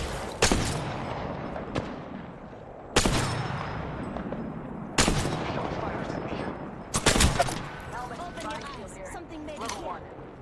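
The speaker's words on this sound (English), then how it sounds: "So this is me having a little shootout" Bursts of rapid gunfire from an Apex Legends shootout, with four sharp volleys of shots a couple of seconds apart and a voice talking over the game audio.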